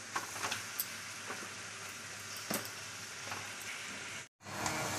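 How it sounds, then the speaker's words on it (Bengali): Marinated chicken pieces fry in a kadai with a loud, close, continuous sizzle, sprinkled with small crackles and pops, cut by a momentary silence near the end. "এখন এই চিকেনগুলো কড়ার মধ্যে দিয়ে দেবো"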